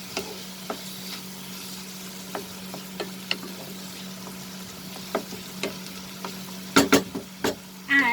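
Prawn keema being stirred in a pan, a low steady sizzle under scattered light utensil taps, ending in a few louder scraping clatters close by.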